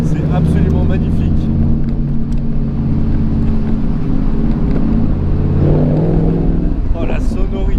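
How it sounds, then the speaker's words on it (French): A Morgan Plus 8 idles in a small stone village, its exhaust giving a steady, deep, throbbing rumble that stays close and loud throughout, with a slight swell in tone near the end. "Oh, la sonorité de l'échappement, c'est génial, c'est franchement incroyable."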